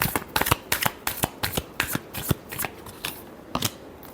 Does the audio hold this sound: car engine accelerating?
no